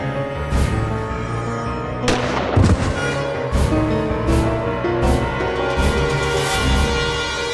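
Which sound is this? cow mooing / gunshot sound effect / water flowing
gunshot sound effect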